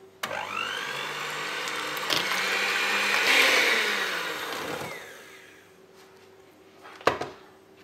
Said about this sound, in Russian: И теперь все это взбиваю в течение 2 минут